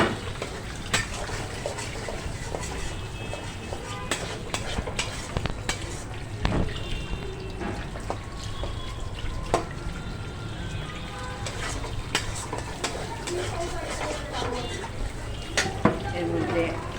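Potatoes sizzling and frying in a pan in a village kitchen while being stirred, a steady crackling hiss with occasional scrapes and clinks of the utensil against the pan.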